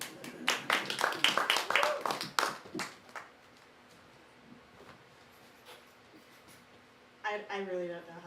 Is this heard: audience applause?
yes